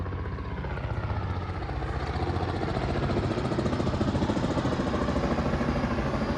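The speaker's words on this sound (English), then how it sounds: "Got another helicopter here. I think this might be a tour helicopter." A tour helicopter drones loudly and steadily with a rapid rhythmic thumping over the Toronto waterfront, a heavy engine rumble that swells slightly as it passes overhead.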